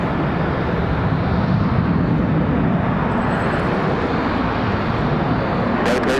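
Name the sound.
Boeing 737-800 airliner at Raleigh Durham airport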